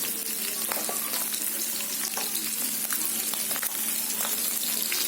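Masala-stuffed mackerel (bangda) fries in a pan over a low flame, a loud, dense, unbroken sizzle close by with frequent sharp spits and crackles, with no voices.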